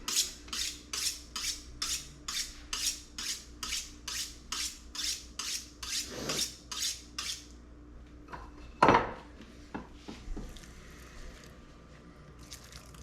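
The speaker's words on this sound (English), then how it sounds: "my knife is feeling a little bit dull. So one thing we'll do real quick is true the edge back up" A fillet knife edge being trued on a sharpener while cleaning a largemouth bass: about fifteen quick, rhythmic scraping strokes, close and loud, then a pause and a few scattered clinks and handling noises.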